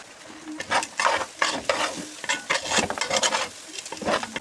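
A spoon stirs rice into toasted vermicelli in a pot. The scraping comes close and in repeated irregular strokes, with a light sizzle underneath and no voices.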